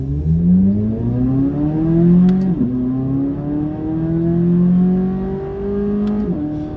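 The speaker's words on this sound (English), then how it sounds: "that does not sound like any Corvette I've ever driven. It sounds so much like a Ferrari" A Chevrolet Corvette engine revving hard through the gears: a loud, rising high-pitched wail that drops sharply at two upshifts and climbs again each time, heard close from inside the car with no talk.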